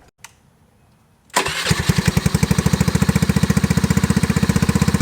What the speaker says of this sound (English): drop the Navi down off the lift, get her fired up, and then we'll get some cold starts going